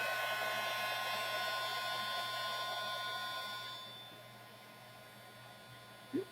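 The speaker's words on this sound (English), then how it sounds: "might get a little tiny bit loud while we do our embossing tool" A heat embossing tool blows steadily at close range during card making, a loud even whoosh with a faint hum that eases off partway through before a small bump at the end.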